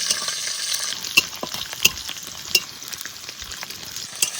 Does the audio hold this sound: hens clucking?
no